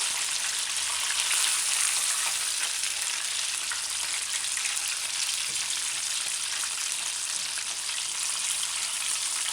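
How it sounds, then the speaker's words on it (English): Herbal fried chicken sizzles steadily in hot oil, a dense continuous crackle and hiss, close up with no talking. "You gotta listen to the sizzle."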